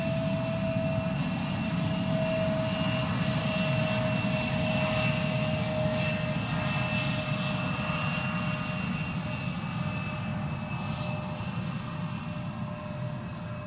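A KLM Cityhopper Embraer 175 jet at Schiphol Airport gives off a steady, moderately distant engine rumble with a faint high whine, slowly fading.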